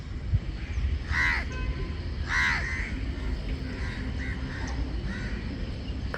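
A crow caws several times outdoors near a railway, each call short and harsh, heard at moderate distance over a steady low background rumble.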